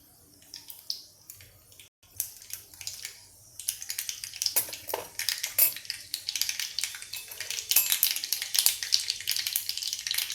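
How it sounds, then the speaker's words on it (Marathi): Mustard seeds pop and splutter in hot oil in a pan for South Indian sambar tempering, a dense crackling sizzle that starts sparse and builds into rapid, loud bursts, with no talk. "मोहरी फुटते आहे तोपर्यंत"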